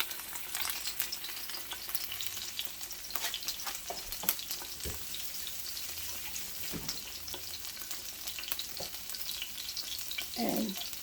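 A piece of salmon sizzling in a pot, a steady crackling fry with occasional sharper pops and spits, close and continuous throughout, with no talking.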